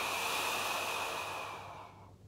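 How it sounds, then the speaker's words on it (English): Deliberately exaggerated breathing during a Pilates floor exercise: one long, steady breath of airy rushing close to the microphone that holds strong and then fades away near the end, with no talking over it. "I am exaggerating my breathing for you."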